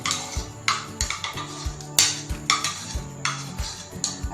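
A spoon clinks and scrapes against a bowl while mango chunks are stirred into an ice-cream mixture, a series of sharp, close knocks in an uneven rhythm with no talking.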